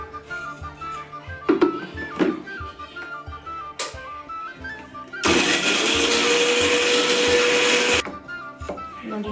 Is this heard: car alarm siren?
no